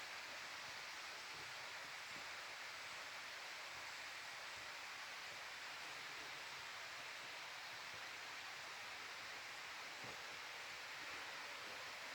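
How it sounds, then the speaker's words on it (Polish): A mountain stream babbles in the distance along a forest trail in the Bieszczady near Tarnica, a faint, steady broadband rush with no voices. "gdzieś tam w oddali słychać jak szumi strumyk"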